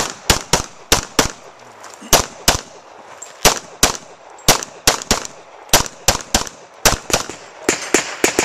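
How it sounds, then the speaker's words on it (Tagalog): Rapid gunshots at a USPSA shooting match, a dozen or more loud, sharp reports fired in quick pairs and strings with brief pauses, close to the listener. "May tatlong putok mo"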